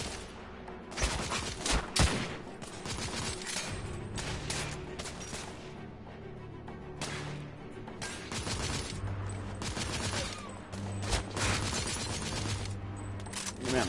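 Machine-gun and rifle fire from the video game The Order: 1886 crack in dense, rapid bursts throughout, loud and close, with brief gaps between volleys.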